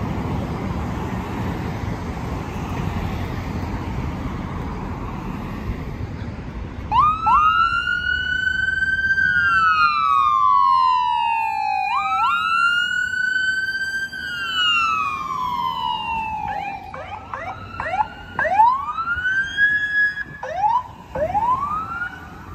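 A McCormick Ambulance siren starts after a stretch of traffic noise, wailing in long rising and falling sweeps, then switching to quicker yelps, fairly close, while transporting to hospital.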